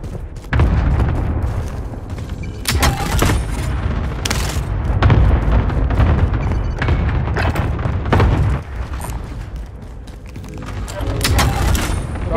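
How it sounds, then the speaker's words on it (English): Continuous loud rumbling barrage of booms and blasts in Call of Duty: Warzone, dense and overlapping like heavy gunfire and explosions, with sharp bursts punctuating a roaring backdrop. "why am I hearing explosions every corner of the map"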